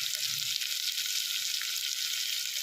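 Curry leaves, green chillies and mint sautéing in hot oil for a roadside-style parotta salna, giving a loud, continuous close-up sizzle with no talk.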